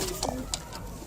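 A few soft pigeon coos sound close by at a breeding nest, brief low murmurs over a quiet background hum.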